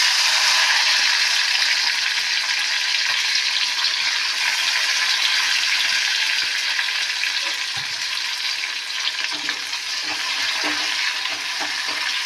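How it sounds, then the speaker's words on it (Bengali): Dried red chillies and onion fry in a pan with a loud, steady, close sizzle that holds for the whole stretch, with no talking over it. "এই শুকনো লঙ্কা আর পেঁয়াজটা ভালোভাবে আমি ভেজে নেব"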